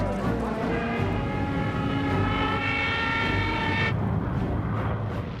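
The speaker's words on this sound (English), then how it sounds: "Planes heard 3 miles southwest." World War II aircraft engines droning overhead during the Battle of Britain, a loud continuous roar with a steady tonal hum that cuts off sharply near the end and leaves a rumbling tail.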